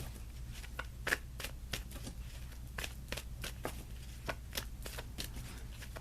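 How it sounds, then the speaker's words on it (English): Tarot cards being shuffled by hand before a card is pulled, a soft papery riffle of repeated quick slaps and flutters at close range, steady and quiet for several seconds with no talk. "So let's pull you an additional guidance card."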